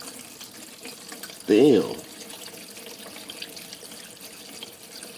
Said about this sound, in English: Now we're just gonna drain the oil.